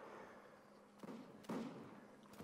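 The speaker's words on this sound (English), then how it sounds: "59th devastated by a fantastic cannon shot" Cannon fire in Mount & Blade: Napoleonic Wars during a line battle, faint booms at about one and one and a half seconds over a murky background of distant battle noise.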